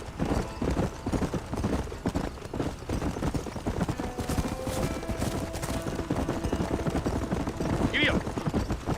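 A horse's hooves clip-clop at a gallop across open ground in the Western video game Red Dead Redemption, a steady close rhythm with ambient game sound beneath it and no speech.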